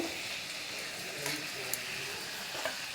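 Meat seasoned with turmeric sautés in a pan as it is stirred for kosha: a steady, faint sizzle with a few soft scrapes and clicks from the utensil, under a quiet murmur of voices.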